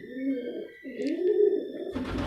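A Rampuri pigeon gives two soft, close coos in quick succession, each a low throaty warble, with a faint rustle at the end.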